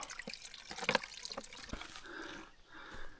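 Water pouring into a 5-litre bottle being filled, a brief run of trickling and gurgling splashes that shifts in pitch as it fills, close and fairly quiet, with no voices.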